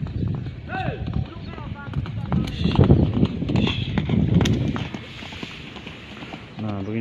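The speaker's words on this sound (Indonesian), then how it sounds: "Lihat ada kuda yang sedang berlatih pagi ini guys." Horse hooves clip-clop at a traditional Gayo horse-racing track during morning training before a race event, a moderately distant irregular trotting rhythm under someone talking.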